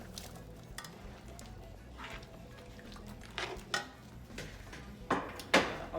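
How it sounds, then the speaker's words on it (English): Carrots tumble into a pot of stewing oxtail, giving soft clattering drops and scraping that swell toward the end, the loudest knocks near the close over a low kitchen background. "Now we're gonna add the carrots in."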